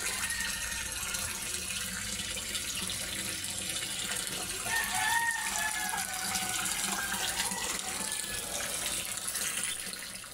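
Water running steadily through a filter back into a homemade backyard fishpond, a constant splashing trickle like a tap, moderately faint with no break.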